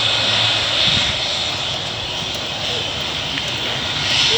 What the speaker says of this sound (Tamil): ஜெட் ஸ்டார் லேண்ட் பண்ணிருக்கு.